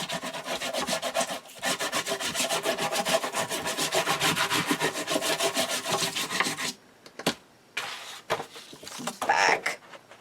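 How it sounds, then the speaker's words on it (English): Paper craft pieces freshly glued with Fabri-Tac get a quick burnish, a rapid back-and-forth scraping rub for several seconds, then a few short separate strokes with soft talk around them. "let's flip this over and give everything a quick burnish."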